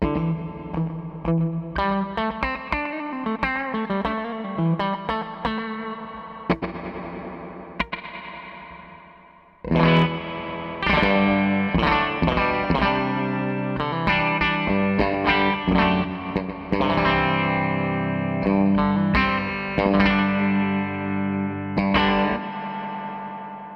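An electric guitar played through a TC Electronic Hall of Fame 2 pedal on its spring reverb setting with pre-delay, giving a slapback-like splash; a run of plucked notes and chords rings out alone, with a brief pause midway.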